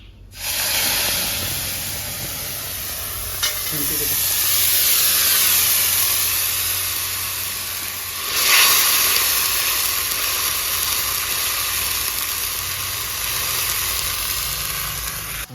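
Whole spices and ginger-garlic paste hit hot oil, producing a loud, broad, continuous sizzle and hiss that surges sharply as the paste goes in, then settles into a steady frying crackle with no talk.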